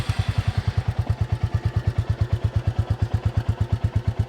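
A single-cylinder Royal Enfield motorcycle engine thumps in a steady, heavy rhythm close by, a deep regular chug with slight rises in pace.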